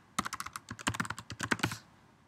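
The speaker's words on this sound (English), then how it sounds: "Type in the URL you want," Rapid, close keystrokes on a computer keyboard as a web address is typed, a quick burst of clicks lasting about two seconds in a quiet room.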